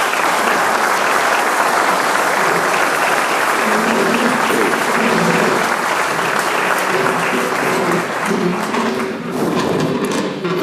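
Audience applause thanking a panel at an economic strategic planning summit, a loud, dense wash of many hands clapping that sustains steadily for about ten seconds with a faint tonal hum underneath.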